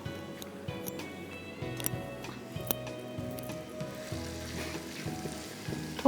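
Chopped onion frying in a pan, a moderate sizzle with occasional clinks and scrapes, close by and fairly quiet, with a faint low hum underneath.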